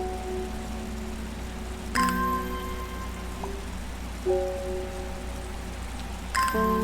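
Steady rainfall patter in the plant-shop puzzle game Strange Horticulture, a constant even wash of drops behind soft tonal game music with occasional brighter chimes, no talking.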